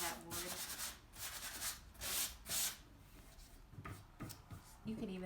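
Sandpaper rubbed by hand over a waxed, painted wooden furniture surface to sand through to bare wood, giving repeated loud scratchy strokes in bursts, close up, with some brief talk between strokes.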